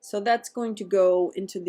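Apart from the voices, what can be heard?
None of the usual background noises is heard.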